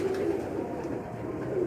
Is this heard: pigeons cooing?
yes